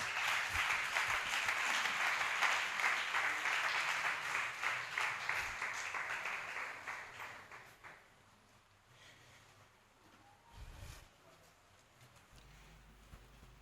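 Congregation at a church worship service clapping to acclaim the Lord, a dense sustained round of applause that fades after several seconds into a quiet room with a few scattered knocks.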